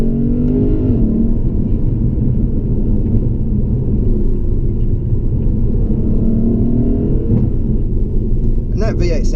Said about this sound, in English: And that V8 soundtrack is addictive.